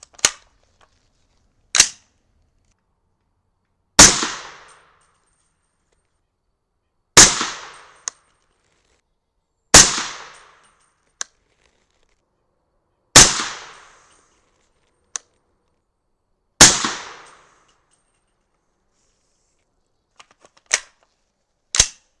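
Gunshots ring out at an outdoor range while a 300 BLK rifle is test-fired with supersonic hunting loads of 110-grain Barnes TAC-TX bullets over Winchester 296 powder: about nine sharp, loud reports spaced seconds apart, with metallic clicks of cycling between some.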